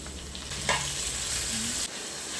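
Chopped tomatoes dropped into sautéed onions for a coconut-milk chicken curry sizzle in a steady, close, hissing fry, with a brief stir clatter early on and no talking.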